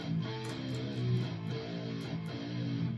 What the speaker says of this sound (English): we get the beginning riff again, except this time it's played a half step down